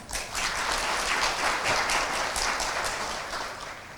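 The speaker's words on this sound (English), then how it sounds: "Please give a round of applause to all of us." Steady audience applause at a commemorative symposium on 50 years of ASEAN-Japan friendship, a dense even wash of clapping from a large crowd in a venue, holding strong for about four seconds before thinning slightly at the end.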